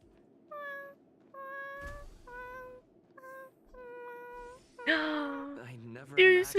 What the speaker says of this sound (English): I'm gonna put my cat on the mic.